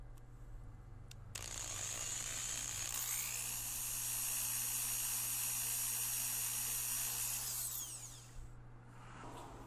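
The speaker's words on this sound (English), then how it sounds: "we're going to take the 1/16 bit and we're going to drill a hole through the cap" A small drill with a 1/16 inch bit boring a vent hole through a plastic bottle cap during a Mazda Protege brake fluid flush, a steady high whine lasting several seconds, close and fairly quiet over a low hum.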